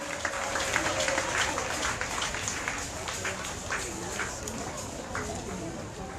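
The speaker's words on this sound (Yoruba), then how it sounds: "Ẹ jẹ́ ká máa pàtẹ́wọ́ fún Jésù títí wọ́n á fi débí." A congregation claps steadily for Jesus at a women's intercessory prayer and fasting gathering in Oyo State. The dense, continuous applause fills the room, with voices mixed in beneath it.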